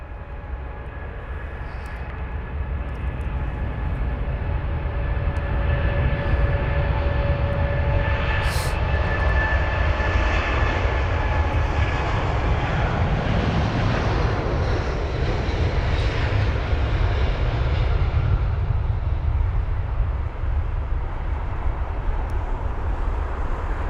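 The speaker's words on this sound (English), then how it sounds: "787-10 Dreamliner with the Reg Golf Zulu Bravo Lima Delta, which is heading to Washington" Boeing 787-10 Dreamliner jet engines roar steadily and loudly for the whole stretch, a broad sustained rumble with a rising whine partway through as the airliner passes near at a busy airport.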